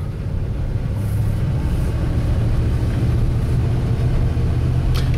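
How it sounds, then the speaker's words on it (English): A 1996 Ford E-350 van drives along a road, giving a steady, loud low engine and road rumble that holds constant throughout with no talking. "we're gonna drive down the road here."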